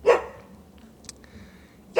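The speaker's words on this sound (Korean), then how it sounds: "멍멍이도 저를 응원해주네요." A dog gives a couple of sharp barks, one at the start and another at the end, with a faint quieter yip between, near and alone outdoors.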